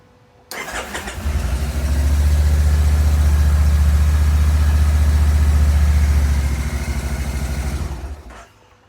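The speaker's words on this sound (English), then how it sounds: "the bike started" A Kawasaki Vulcan Nomad 1600 motorcycle engine cranks and catches, swells into a loud, steady running rumble, then eases off and cuts out near the end, with no voices.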